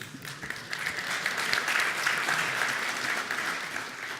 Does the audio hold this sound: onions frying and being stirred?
no